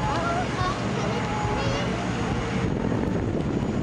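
A Jet Airways airliner departs Toronto Pearson, its engines giving a steady, loud broadband roar that fills the whole stretch, with people talking over it.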